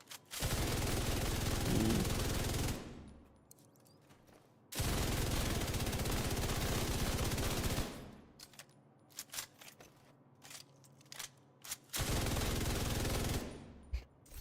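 Bursts of rapid automatic light machine gun fire in the video game The Division 2, three long sustained volleys separated by pauses with scattered single shots and clicks in between.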